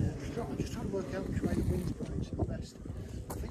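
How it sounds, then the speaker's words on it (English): Wind blows outdoors in the Upper Derwent Valley of the Peak District, rumbling and buffeting the microphone in a loud, continuous gusty roar while people talk. "In fact, that wind's blowing this way."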